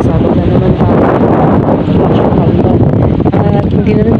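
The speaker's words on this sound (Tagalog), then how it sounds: "Sobrang lakas talaga nung hangin sa lahatan o yung easterlies." Strong easterly wind at sea roaring across the microphone on a fishing boat, loud and continuous buffeting with no letup, and a voice faintly mixed in.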